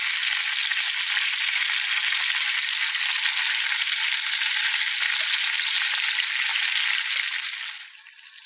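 Fish in a butter, saffron and lemon sauce cooking in a pan, giving a dense, even, hissing sizzle that holds steady and close for several seconds, then thins out at the end, with no voices.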